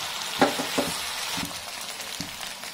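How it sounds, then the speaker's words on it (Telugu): Ginger garlic paste frying in hot oil for a mutton curry, a loud, continuous close hiss and sizzle punctuated by a few sharp spoon clinks and stirring knocks, with no voices. "అల్లం వెల్లుల్లి పేస్ట్ ఆయిల్లో బాగా ఫ్రై అవ్వాలి"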